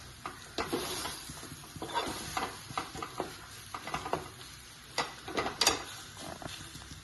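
A spoon stirs jackfruit thoran in a pan after coconut oil is poured in, giving soft irregular scrapes and clacks over a faint sizzle, fairly close and quiet.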